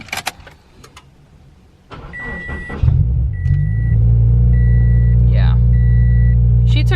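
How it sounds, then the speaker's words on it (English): A car parked in a home garage, mid-way through a coilover suspension swap, starts up: a few clicks and chimes, then the engine cranks and settles into a loud, steady idle, with a warning beep or chime repeating over it. "we're gonna turn on the car"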